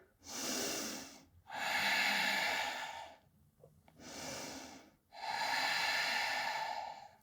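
Deep yoga breaths in and out through the nose during a whole-body session on a mat: four long, close, airy breaths in a slow, even rhythm, with short quiet pauses between them.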